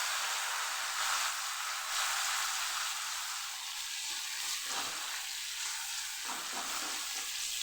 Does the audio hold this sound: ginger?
yes